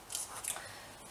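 Scissors cut a small piece of paper to size for lining a cake pan, giving two quick, faint snips close by in a quiet room.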